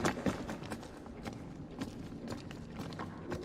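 Footsteps in Star Citizen, quick regular steps like someone running on a hard floor, each one a crisp thud, fairly close and moderately quiet.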